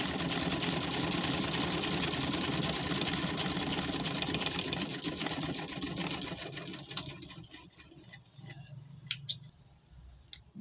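A sewing machine runs steadily for most of the stretch, stitching a double seam along a garment shoulder, then slows and stops near the end with a few faint clicks.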